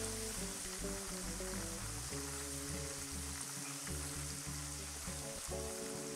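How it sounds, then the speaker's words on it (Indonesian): Sliced potato chips fry in hot oil with a steady, quiet sizzle and fine bubbling crackle throughout, with no voices. "Goreng hingga kering dan berwarna kuning keemasan."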